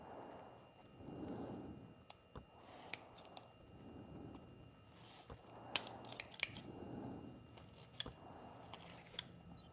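Hooked scissors being sharpened, a series of soft rhythmic scraping strokes about one per second, with sharp metallic clicks and snips scattered among them, quiet and close with no voices.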